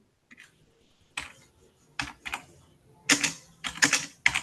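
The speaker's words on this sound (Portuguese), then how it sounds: "Que a gente digitando, tô ouvindo aqui." Keys on a computer keyboard are tapped in scattered bursts, close and fairly quiet, with short pauses between clusters of clicks in a quiet room.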